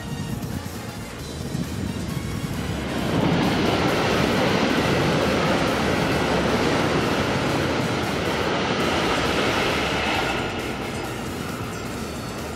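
Shinkansen Yamabiko bullet train passing, a broad rushing roar that swells over a few seconds, holds steady and then fades, heard from nearby.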